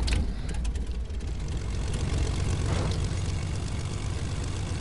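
A video game airplane engine hums at a steady drone, a dense, fairly loud propeller-like rumble that carries on without a break.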